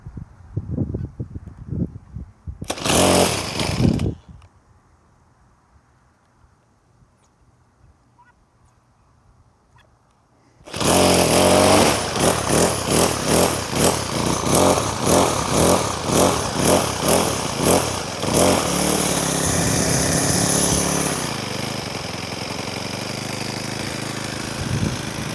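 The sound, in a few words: Troy-Bilt TB6044XP weed trimmer engine running and idling after carburetor replacement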